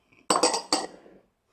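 Clinking of a utensil against a bowl while canna oil is stirred into brownie batter, a few quick close knocks and scrapes in short succession, then quiet.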